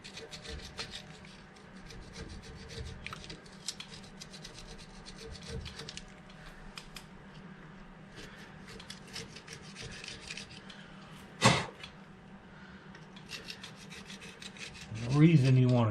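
Steady scrubbing and rasping as packed crud is worked off a Dana 30 steering knuckle, a continuous close rubbing texture with one sharp scrape near the end and a louder knock at the close.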